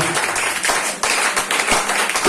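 A church congregation claps in dense, loud applause during a Christian sermon, a steady wash of many hands close by for a couple of seconds.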